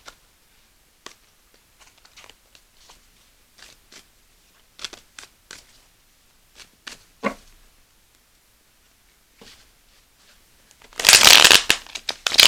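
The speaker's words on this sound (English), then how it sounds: "I'm trying to do a thorough shuffle because I have not used this deck" A brand-new tarot deck shuffled thoroughly by hand: scattered soft card clicks and riffles at an uneven pace, then a louder, denser flurry of cards near the end, close-up with no talking.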